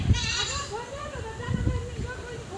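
Goats bleat nearby in rainy weather, with several wavering, drawn-out cries overlapping one another against a low background hum.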